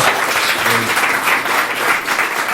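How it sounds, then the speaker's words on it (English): An audience claps steadily throughout at a conference talk welcoming speaker Nick Johnston, dense applause close and continuous with no voices on top. "You all clapped way too early."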